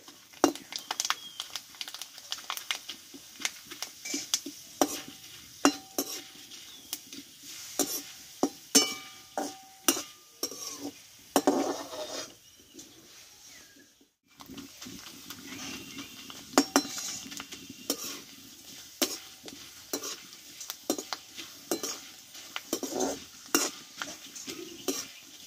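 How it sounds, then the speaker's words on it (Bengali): Thin potato chips fry in a small amount of oil in a pan, with steady light sizzling broken by frequent scraping and clinking stirs of a metal utensil, close and alone without talk. "যেমন অল্প তেল, সেই জন্য অল্প অল্প করে দিয়ে আমি চিপসটা কিন্তু ভেজে নেব।"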